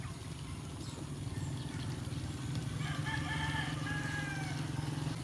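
Chickens clucking and a rooster crowing in the background over a constant low rumble, with no one talking.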